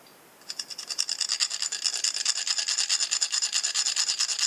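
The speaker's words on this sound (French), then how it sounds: "je prends un disque diamant, de disqueuse" A diamond disc from an angle grinder deburrs edges with quick, rhythmic rasping strokes. The scraping is close and bright, starting after a brief quiet moment and repeating steadily, with no motor whine and no talking.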